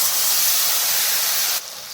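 Tomato paste hits a hot pan of spices fried with garam masala, setting off a loud, close, hissing sizzle that drops suddenly to a softer, steady sizzle near the end.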